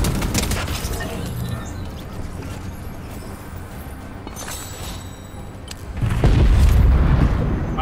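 A Fortnite explosion from a grenade blowing up an enemy hiding inside a structure lands as a sudden loud, deep boom near the end, after game sounds and faint chatter.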